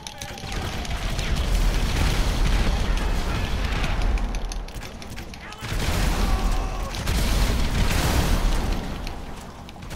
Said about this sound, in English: That's the rapid fire grenade glitch.